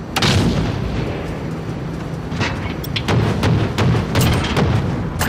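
Heavy, rumbling explosions from an air strike in a video game bot match, with repeated booms and thuds overlapping in a dense, loud barrage.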